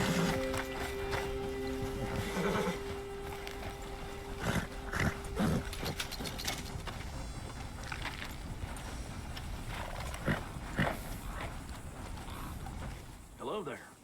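Horse hooves clip-clop through a video game scene, a steady trotting patter mixed with background ambience and music, with voices talking over it.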